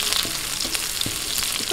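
Onions frying in a pan for chicken feet adobo, with a brief, close, steady sizzle and a few light stirring taps.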